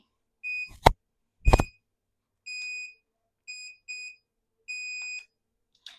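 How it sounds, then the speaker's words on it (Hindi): An Urbanyog automatic hair curler beeps when hair gets stuck: two loud clicks or knocks, then four or five short, clear electronic beeps in an irregular pattern, close and alone with no talking. "थोड़ा सा स्टक हो जाए उसके बाद बीप होता है"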